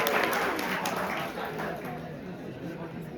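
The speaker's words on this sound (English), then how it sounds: "So can we have a big round of applause for Vivek, everyone?" Audience at a college pep talk event clapping for a guest, a fairly faint, continuous patter of applause with murmured chatter underneath that fades slightly toward the end.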